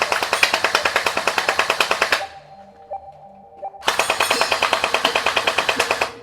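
Mk18 gel blaster toy gun fires gel balls in two rapid full-auto bursts of sharp, evenly spaced clacks, separated by a short pause filled with faint mechanical whirring.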